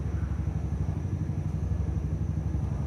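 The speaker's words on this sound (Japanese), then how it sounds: "エンジンの始動確認動画です。" A Yamaha MT-09 motorcycle (frame RN34) runs with a steady, low engine rumble, close and continuous, with no speech over it.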